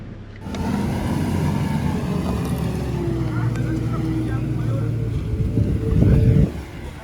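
A 4x4 off-road vehicle idles and labours while stuck in deep mud, its low steady engine drone close and constant and rising to a louder push near the end.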